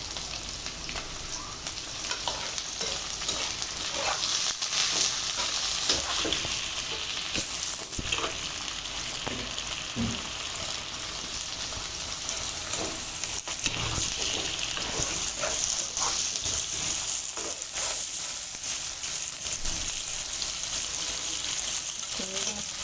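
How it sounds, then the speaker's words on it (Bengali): Prawns frying in a pan with lightly fried onion, a continuous loud sizzle with scattered pops and occasional stirring scrapes, close up. "পেঁয়াজটা হালকা ভেজে দিয়ে দিচ্ছি চিংড়ি মাছটা।"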